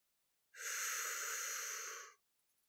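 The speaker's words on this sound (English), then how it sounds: "Just only focus on matching my breathing." One slow, deep breath drawn in a quiet, close setting, a smooth airy rush lasting about a second and a half before fading to silence, with a few faint clicks after.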